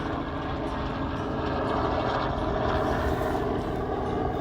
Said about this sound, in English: Definitely a Coast Guard helicopter.